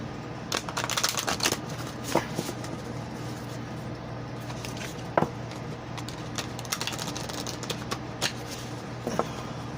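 Oracle cards being shuffled nearby, soft riffling bursts and flicks repeating at irregular intervals over a quiet room hum.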